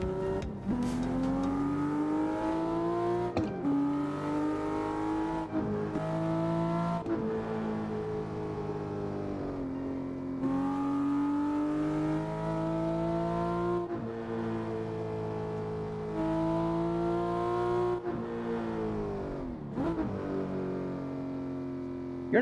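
A car engine in the Assetto Corsa racing game revs up and drops again and again as it shifts through the gears. The engine sits close and steady, with each rising pitch cut off by a short gap at the shift.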